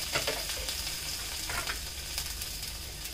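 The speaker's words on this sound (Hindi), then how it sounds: "उसमें 1 टेबल स्पून तेल लिया है। अब इसमें लहसुन डाल देंगे जो कि हमारी कटी हुई है, अदरक क्रश की हुई अदरक है इसे भी डाल देंगे" Chopped garlic and crushed ginger sizzle steadily in a tablespoon of hot oil, a continuous crackling hiss with a few brief stirring scrapes, close and alone.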